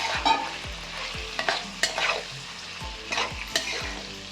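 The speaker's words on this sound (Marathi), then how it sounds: "आता ही वांगी जी आपण भरून घेतली होती ती पण आता घालूया त्याच्यामध्ये" Stuffed eggplants for Maharashtrian bharli vangi stirred in hot, sizzling masala, with a steady fry hiss broken by repeated clacks and scrapes of a spatula against the pan at close range.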